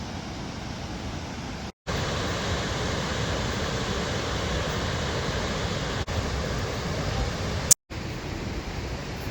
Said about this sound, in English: You can see where the water's coming down, and those are usually very deep at the bottom of the waterfall.